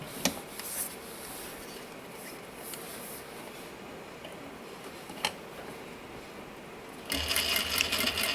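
A sewing machine back stitches a recycled denim pouch, giving a faint, steady whirring hum with a few soft clicks and a louder burst of stitching near the end.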